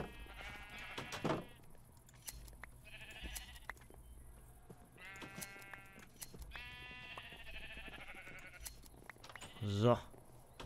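Sheep in the game Minecraft bleat several times in short wavering calls spread across the scene, mixed with game sounds and a sharp click or thump near the end.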